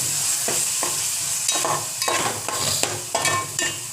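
A spoon works tomato and tamarind puree through a simmering fish gravy curry, rhythmic wet stirring strokes over a constant frying sizzle, close and fairly loud, no voices.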